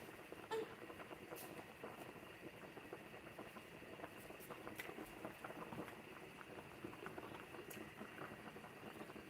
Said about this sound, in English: while this is bubbling up and cooking